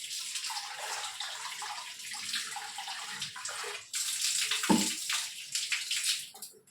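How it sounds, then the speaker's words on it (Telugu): Water being poured into a cooking pot on a stove, a soft running splash that steadies and then briefly gurgles louder near the end before tapering off, close and alone without talk. "కొంచెం వాటర్ పోస్తున్నా."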